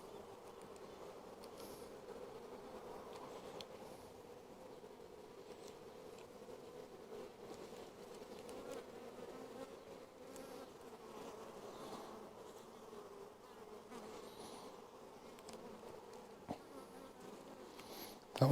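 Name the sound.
honey bees buzzing around hive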